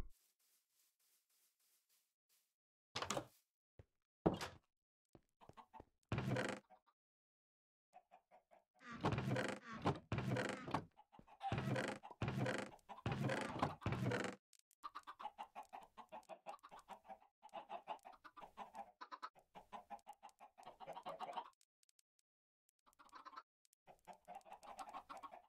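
Chickens in Minecraft clucking in short, separate bursts, then in a denser run of overlapping clucks, loud and close with quiet gaps between calls.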